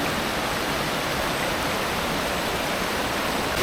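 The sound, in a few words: waterfall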